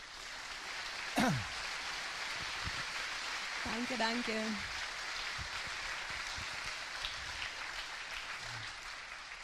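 An audience applauds an astronaut at a public talk, a steady spread of clapping at moderate volume while a voice briefly speaks thanks over it.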